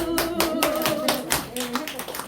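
A church congregation claps during a sermon on prayer, sounding as sharp, regularly spaced bursts of many hands close by, while voices carry on beneath and between the claps.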